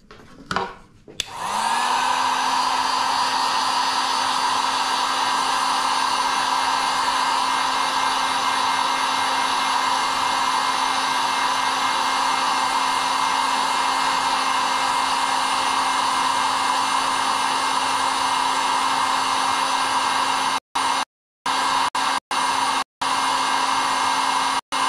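A hair dryer warms a violin's French form and clamp before gluing the blocks, switching on with a rising whir and then holding a loud, steady close-up hum throughout, with a few sudden brief cutouts near the end.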